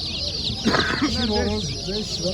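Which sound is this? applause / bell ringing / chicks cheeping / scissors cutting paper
chicks cheeping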